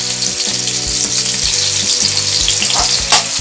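Grated coconut and a small piece of ginger sautéing in hot oil in a pan for ridge gourd chutney, a loud steady sizzle with rhythmic spatula scrapes and stirring strokes, no voices.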